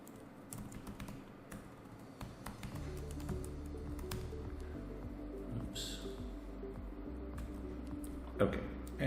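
A computer mouse and keyboard click sparsely in BlockSim fault tree software: quiet, close taps scattered over a low steady hum, with one sharper click near the end.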